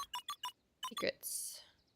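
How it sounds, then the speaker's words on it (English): Keypad beeps from letters entered on a phone booth keypad: four quick evenly spaced electronic tones, a short pause, two more beeps, then a soft rising whoosh that fades. "entered the letters into the keypad"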